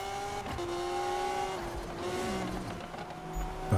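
A Liberty Walk Lamborghini Aventador races in Need for Speed 2015, its engine droning steadily with shifting pitch and brief tire squeal, loud and up close without any voices.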